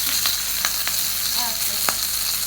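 A piece of beef shin steak sizzles in a hot pan, a steady close frying hiss with a few sharp crackles and pops scattered through.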